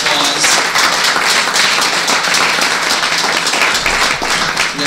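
A crowd applauds loudly and steadily, dense clapping filling the whole stretch without pause.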